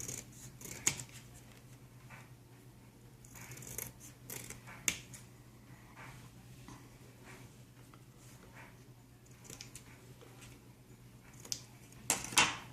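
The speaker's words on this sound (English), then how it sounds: "Go ahead and cut your striker." Scissors snip through the striker strip of a matchbox for a small tin survival kit: a few quiet, close, sharp cuts and clicks over a hushed room, with no speech.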